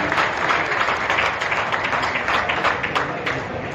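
An audience applauds steadily at a public ceremony in Delhi where DTC interstate buses are flagged off, making a dense, even wash of many hands clapping at once, close and sustained throughout.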